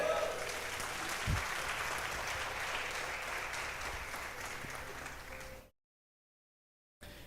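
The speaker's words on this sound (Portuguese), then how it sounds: "Você pode dar um glória a Deus bem alto, uma salva de palmas para Jesus?" Congregation applause at a church service fills a broad, even roar of many hands clapping, steady for over five seconds before cutting to silence and briefly resuming.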